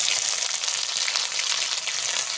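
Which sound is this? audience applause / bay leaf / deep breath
bay leaf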